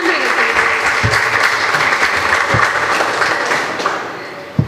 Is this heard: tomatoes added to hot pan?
no